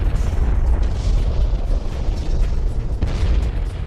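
A supernova explosion rendered as a deep, continuous rumbling boom with heavy low-end roar and crackling texture, loud and sustained throughout with no voices.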